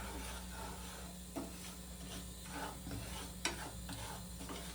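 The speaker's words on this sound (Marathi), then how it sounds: "अर्धी वाटी रवा घेतलेला आहे आता काय करू मिक्स आता भाजायचं एकदम चांगल्या प्रकारे ब्राऊन करायचं" Half a bowl of semolina is roasted in a pan for a festival offering and stirred with a spoon, giving soft scraping and light sizzle, faint and steady, with a couple of sharper knocks against the pan.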